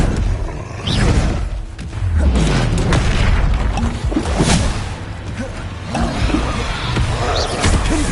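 Bombarda explosive spell blasts in the Hogwarts Legacy video game, a series of loud, deep booming bursts with whooshing energy, repeating across the battle amid dense combat noise.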